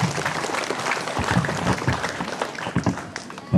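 An audience at a madrasah school farewell ceremony breaks into lively clapping, a dense, close burst of many hands that rises and falls over a few seconds.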